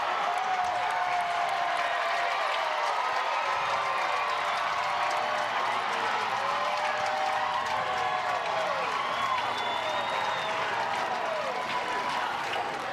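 Stadium crowd at the 2024 ACC Softball Championship final between Florida State and Duke keeps up a steady roar of cheering and applause, with a commentator talking over the dense, continuous noise throughout.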